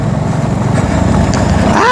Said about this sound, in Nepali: कुदाउँछ क्या बाइक त